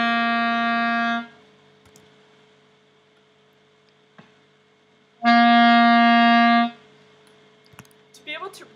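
A clarinet sounds a sustained C, with two long steady tones separated by a few seconds of near silence and a faint flutter of sound at the end.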